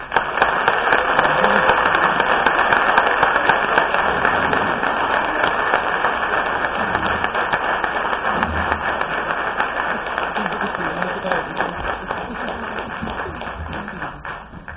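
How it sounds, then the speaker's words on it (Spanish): Audience applause welcoming a lecturer onto the stage at a geopolitics talk, a dense, steady clapping that fills the whole stretch and slowly fades toward the end. "recibamos con un fuerte aplauso a José Alberto Villasana Mujía"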